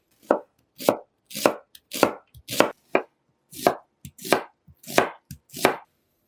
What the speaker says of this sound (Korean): 양파는 반으로 자른 다음 작은 크기로 썰어 주시고요